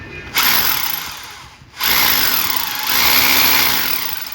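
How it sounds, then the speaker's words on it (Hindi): An electric drill machine bores a hole into a pipe fitting, whining loudly and steadily in two long bursts separated by a brief pause. "ये ड्रिल मशीन की मदद से अभी हम इसमें सुराख करेंगे"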